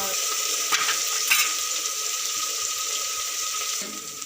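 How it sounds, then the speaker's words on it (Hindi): Ground ginger, garlic and green chillies frying in a pan over a wood-fired stove, a steady loud broadband sizzle with a couple of brief stirring clatters, no voices. "2 मिनट तक इसको फ्राई करेंगे।"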